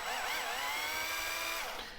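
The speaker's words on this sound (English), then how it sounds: "I chuck this thing up in my drill" Power drill spinning a flash hole deburring tool inside military 5.56/.223 brass cases, a loud, steady whirring whine with shifting pitch that lasts the whole two seconds before tapering off.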